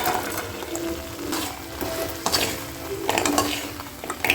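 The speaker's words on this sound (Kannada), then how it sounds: "ಇವಾಗ ಡ್ರೈ ಗೋಬಿನ ಹಾಕೋಣ." Cauliflower for dry gobi tipped into spices already frying in a pan, giving a steady sizzle broken by scraping stir strokes and a few sharper clatters toward the end.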